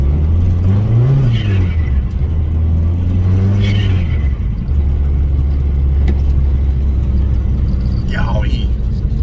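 A built turbocharged Mazdaspeed engine revs twice, loud and close, then settles into a steady, deep rumbling idle that continues to the end.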